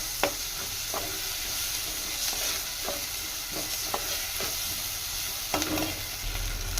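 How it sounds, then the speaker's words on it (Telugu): Ginger garlic paste frying in a pan for a village-style potato and dried fish curry, a steady soft sizzle with repeated scrapes and taps of a stirring spoon at an uneven rhythm, fairly close. "ఈ విధంగా పచ్చి వాసన పోయే వరకు బాగా ఫ్రై చేసుకోండి"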